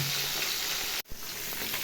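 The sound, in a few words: fish frying in a pan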